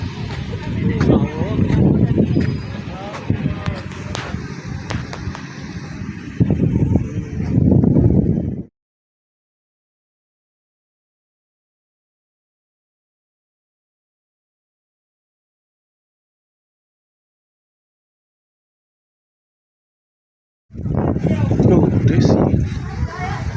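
Water taxi ride in Putrajaya: a steady low boat engine rumble with wind buffeting the microphone, then a long stretch of total silence before the rumble and wind return near the end.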